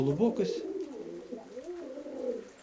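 Pigeons coo in an upper loft, a few soft rolling calls close by, with a voice talking over part of it.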